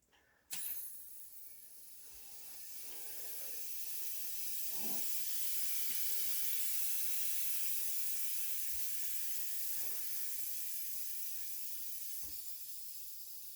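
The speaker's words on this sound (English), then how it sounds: "heard a little bit of air moving" Compressed air from a tank hisses steadily into a paintball gun during a regulator rebuild, a broad continuous rush that swells after a sharp onset and holds for about ten seconds before easing slightly, with a few faint clicks underneath.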